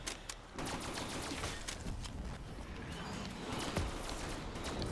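Rapid gunfire in Black Ops 3 Zombies, with bursts of sharp shots and scattered single cracks over a busy game-audio background, with no talk.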